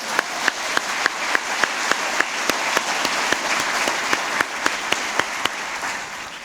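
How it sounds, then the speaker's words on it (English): Steady audience applause fills a university lecture hall, with dense clapping throughout and a few sharp, prominent claps standing out at regular intervals from the crowd. "we're going to go ahead and give him a round of applause anyway."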